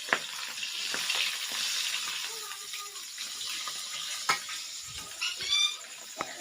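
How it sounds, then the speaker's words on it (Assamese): Fish frying in a pan makes a soft, continuous sizzle with scattered clicks and scraping stirs. Watery splashing sounds come and go, and a few sharp taps break in near the end. "মই এতিয়া মাছ ভাজি আছো"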